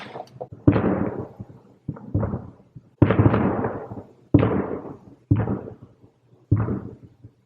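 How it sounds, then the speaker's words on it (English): Loud fireworks go off outdoors in six or seven separate sharp booms spaced about a second apart, each with a ragged rumbling tail. No one speaks. "I'm trying to read, and there are loud fireworks going off."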